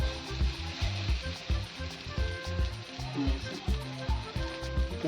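Chickpea flour batter for besan pola sizzles and crackles steadily in hot oil in a pan, a busy frying hiss with soft bubbling underneath, up close and continuous.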